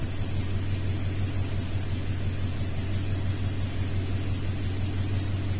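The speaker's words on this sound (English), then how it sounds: "The vehicle is running, so the key is on." A 2002 Toyota Tundra with a misfire runs at idle, giving a steady low rumble with a faint uneven pulse, held at an even level for several seconds and no voices.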